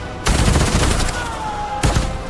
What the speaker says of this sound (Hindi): गोलियों की आवाज ने सब कुछ बदल दिया